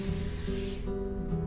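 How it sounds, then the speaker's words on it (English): Hand sanding of a wooden board bow with 220 grit sandpaper, a close, soft rasping hiss in steady strokes, brighter at first then dropping to a quieter scrape. "I sand the whole bow with 220 grit."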